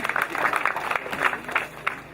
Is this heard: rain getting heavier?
no